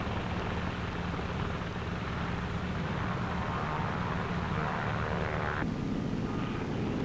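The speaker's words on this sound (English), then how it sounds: "Navy F-6F mother control planes are catapulted from the carrier's flight deck" Navy F6F Hellcat planes launching by catapult from the flight deck of the carrier USS Shangri-La at sea, a steady loud roar of aircraft engines and wind-like rushing noise throughout, with a slight shift in tone near the end.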